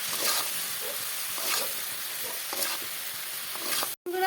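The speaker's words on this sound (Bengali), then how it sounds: "এবার এটাকে ভালো করে কষিয়ে নেবো।" Taro stolons (loti) with shrimp, cumin powder and salt sautéing in a pan, a steady hissing sizzle broken by intermittent spatula scrapes and stirring taps, close by, ending in a brief cut to silence.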